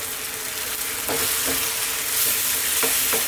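Cheese being stirred into a creamy chicken pasta sauce for a mac and cheese bake over fairly lively heat, a steady sizzling hiss with a few distinct scraping stir strokes near and alone.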